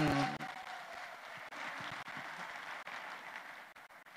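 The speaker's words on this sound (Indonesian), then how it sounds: "saya minta tepuk tangan untuk DPD RI, tepuk tanganlah yang sungguh-sungguh" Audience applause at an Indonesian DPD RI panel forum, a steady sustained wash of clapping from a crowd in a hall that holds evenly for several seconds after a brief louder start.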